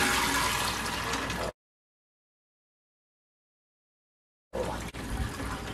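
Soaked navy beans being drained in a kitchen, water rushing and splashing for about a second and a half, then silence, followed by another burst of pouring and gurgling water.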